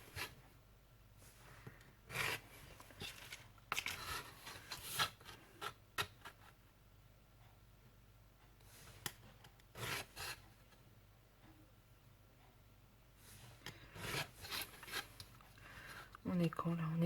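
Paper being folded and creased by hand for a small keychain mini album, a series of soft rubbing and crinkling strokes at irregular intervals, close and fairly quiet.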